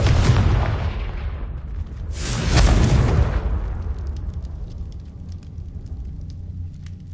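A Confringo fire spell bursts in the Hogwarts Legacy video game: a loud, broad explosive boom at the start, then a second roaring blast about two seconds later, each fading into a rumbling, crackling tail.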